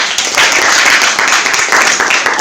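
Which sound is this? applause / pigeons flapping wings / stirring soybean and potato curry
applause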